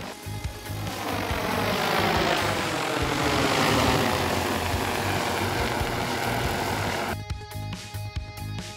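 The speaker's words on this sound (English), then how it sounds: "A drone that is able to get another drone out of a pond." Large agricultural drone rotors hum loudly and steadily for several seconds as one T40 drone hauls another out of a pond, with a harsher, choppier burst near the end.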